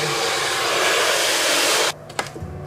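A hair dryer blows steadily and loud while long hair is blow-dried, then it cuts off abruptly and a few soft handling clicks follow.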